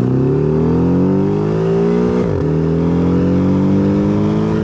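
A 2020 Porsche 718 Cayman engine revs hard and climbs in pitch, drops briefly at a gear change, then pulls strongly again, loud and close.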